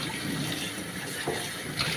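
Tap water runs steadily into a sink while dishes are washed by hand, a continuous close hiss and splash with small clinks and bumps now and then, no voices.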